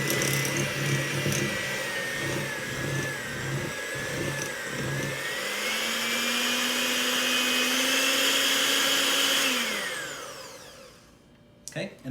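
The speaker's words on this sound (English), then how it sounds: "Grab my hand mixer again and just gently." Hand mixer beating chocolate chip cookie dough as dry ingredients fold into wet, a steady whirring motor hum that rises in pitch midway and then winds down, with faint talk early on.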